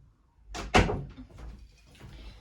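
A door swings shut with a single solid thud close by, followed by a brief rattle and faint room noise.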